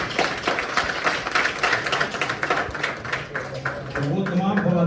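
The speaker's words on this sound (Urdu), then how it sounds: "یہ تالیاں بجی گئی" A crowd at a journalists' union convention in Karachi claps in dense, steady applause, with voices heard in the room as the clapping continues.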